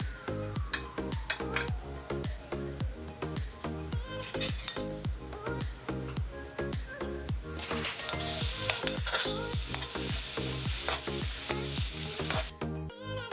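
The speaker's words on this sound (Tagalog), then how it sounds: "unahin ko ng stir fry itong garlic" Garlic stir-fries in cooking oil in a large wok, a steady close sizzle with rapid rhythmic scraping and stirring strokes throughout, growing louder and hissier near the end.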